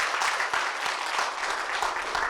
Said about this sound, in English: So big round of applause to all of you before we even get to this.